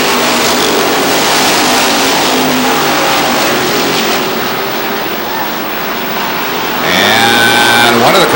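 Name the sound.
race cars racing at Lee Speedway, New Hampshire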